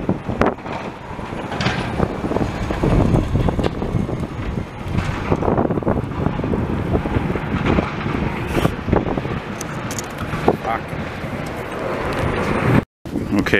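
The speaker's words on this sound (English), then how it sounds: "And it's windy as hell." Strong wind buffets the microphone on Queen Mary Boulevard in Montreal's Côte-des-Neiges during a snowstorm, a loud, continuous gusting roar with rumbling traffic underneath.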